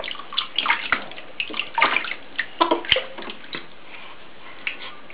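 Bath water in a tub sloshes and splashes in short irregular bursts as a baby is bathed at home for the first time, close and fairly quiet, with no clear talk.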